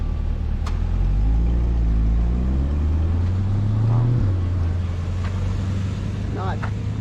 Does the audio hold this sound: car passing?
yes